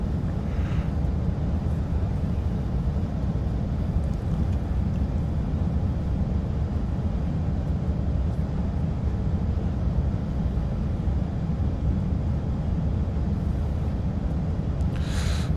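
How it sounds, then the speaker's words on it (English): A continuous airplane engine drone in the X-Plane flight simulator hums evenly at a steady, loud level with no pauses for the whole stretch. "I feel like it's a bit loud for you guys, the sound of the plane."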